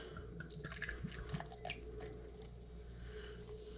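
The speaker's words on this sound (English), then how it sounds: "Let's check how this thing pours." Michelob Amberbock beer poured into a glass, with soft liquid drips, gurgles and splashes over the first couple of seconds, then a faint steady fizz beneath low background hum.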